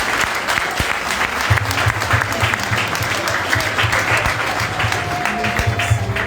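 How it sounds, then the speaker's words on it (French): A church congregation applauds God during a prophetic wedding service. Loud, sustained clapping fills the room throughout, with crowd voices and a low rhythmic hum underneath. "Et applaudis bon Dieu pour moi"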